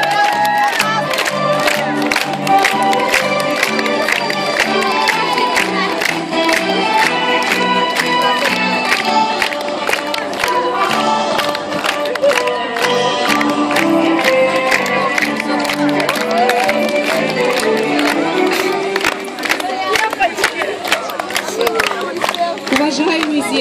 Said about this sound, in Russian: Аплодируем громче, первый, второй, третий отряд.